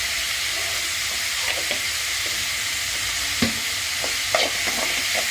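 Onions with curry leaves and salt sauté in a pan for spicy vegetable Maggi, a steady bright hiss of frying with occasional spoon scrapes and taps while stirring.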